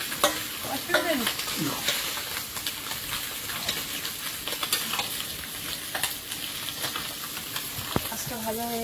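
Fish frying in oil in a village kitchen in the Sundarbans, with steady close crackling and sizzling broken by stirring and scraping clatters throughout.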